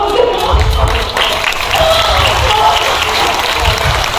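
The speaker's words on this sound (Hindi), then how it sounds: "जोरदार तालियां इस इमोशनल एक्टिंग के लिए" Audience applause follows an emotional stage performance of the story of Siddhartha leaving the palace, a dense continuous wash of clapping heard under a speaking voice and some crowd murmur.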